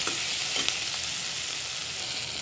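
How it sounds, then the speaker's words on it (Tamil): Garlic cloves and a small potato sauté in hot oil for a cauliflower dish, giving a steady, close sizzle with occasional stirring scrapes throughout, no voices. "சின்ன உருளைக்கிழங்கு ஒன்று, அதையும் வதக்கிக்கலாம்"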